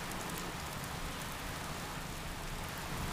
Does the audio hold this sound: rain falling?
yes